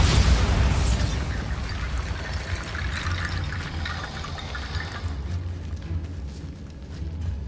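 A Bombarda spell blast in Hogwarts Legacy: one loud burst at the start that settles into a long, rushing, watery rumble and then thins into a quieter hiss, with no voices.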